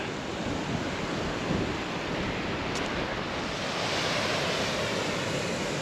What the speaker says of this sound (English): Still getting those water cascades at the side of the path.